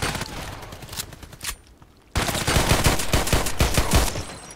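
Dense, sustained gunfire in the online shooter Contract Wars: a burst of rapid shots, then a brief lull, then a long loud stretch of fast overlapping fire, close and busy, with no talking.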